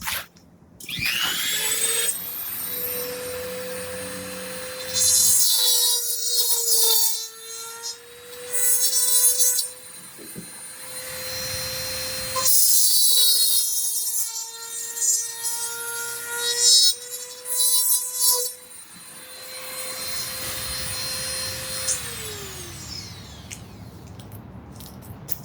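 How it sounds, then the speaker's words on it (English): A power drill boring holes in metal while fitting a gas neck pipe, whining up in several long sustained runs with pitch dips under load, pauses between, and a final spin-down. "Now I'm making holes."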